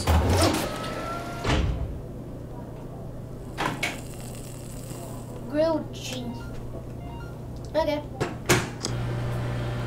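A microwave oven in the virtual-reality cooking game Job Simulator hums steadily with short beeps and clunks of the door, alongside other game sounds and a voice speaking over it.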